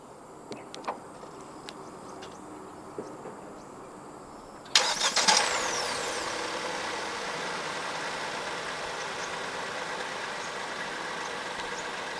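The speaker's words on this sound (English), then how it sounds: "Standard for the S70 in Malaysia is a remote engine start system." A few faint clicks, then a 2024 Proton S70 1.5T engine cranks and starts by remote start, settling into a steady idle hum that continues to the end.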